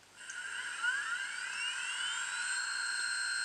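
A Rivarossi Union Pacific 4014 Big Boy model steam locomotive's sound system starts its engine with a steady, hissing, whining tone that rises briefly in pitch and then holds evenly throughout.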